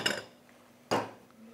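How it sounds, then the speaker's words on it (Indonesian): Plates are picked up in a home kitchen while making eggs, giving two sharp ceramic clinks about a second apart, close and fairly quiet, each followed by a short ringing decay, with no speech. "kita langsung gas ngambil piring"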